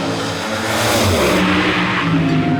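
An alcohol-fueled drag racing car roars loudly and close as the engine revs and climbs, a dense, rough blast that fills the whole short stretch with no talk.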